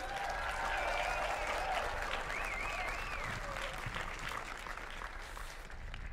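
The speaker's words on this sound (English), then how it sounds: "please give your loved ones a well earned round of applause" Applause from a commencement ceremony audience, a steady wash of clapping that tapers gradually, mixed with distant crowd noise and faint voices and whistles.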